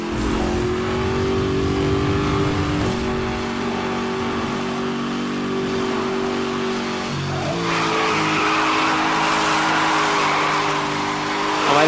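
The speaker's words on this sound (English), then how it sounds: "this Maserati Gran Turismo is amazing handling" A Maserati GranTurismo races on a wet road in Need for Speed Hot Pursuit, its engine droning steadily and loud with gear shifts and tyre hiss, skidding through corners for the whole stretch, with no voices.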